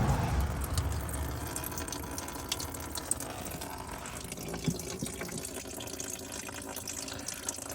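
Radiator fluid drains from the drain plug of a 2010 BMW 535i, giving a steady, faint trickle of liquid with a few soft drips and nothing else over it.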